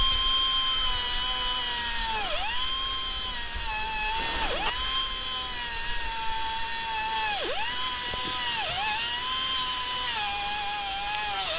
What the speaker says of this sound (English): Sometimes them die grinders want to just be a little bouncy with you for some reason or other, but we'll get it.